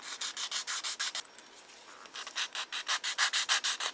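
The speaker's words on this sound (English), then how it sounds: "We'll take our sanding pad for the curved area and just follow it" Rhythmic back-and-forth sanding strokes on a curved plastic model car trunk lid, close up, a short pause midway before the scratchy rasping resumes at a quicker pace.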